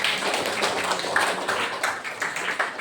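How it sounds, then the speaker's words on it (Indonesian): Students in a classroom clap their hands together in a quick, uneven patter of many small claps, fairly close and lively for a few seconds. "tepuk tangan dulu teman-temannya"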